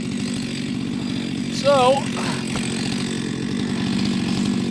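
Stihl 462CM chainsaw cutting oak and walnut firewood with a dulling chain, a steady buzzing engine drone running throughout, with a person speaking briefly over it.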